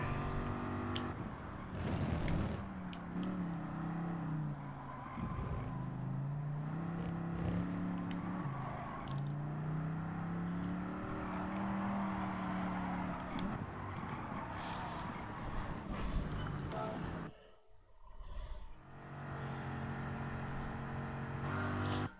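A Dodge Viper's engine drones steadily for about twenty seconds with rising and falling pitch like passing or revving, briefly dipping near the end before resuming.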